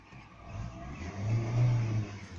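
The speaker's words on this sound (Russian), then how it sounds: "двигатель, слышите, работает отлично" A Lada Vesta engine idles steadily with a low rumble, its pitch rising slightly midway as it revs a little, then settling back.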